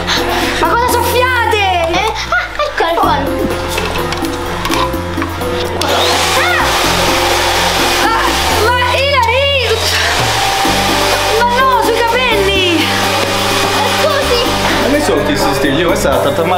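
A hair dryer blows continuously and loudly under excited talking and a voice, with scattered laughter over the steady whooshing hum.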